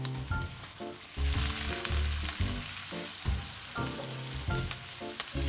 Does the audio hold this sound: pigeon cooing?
no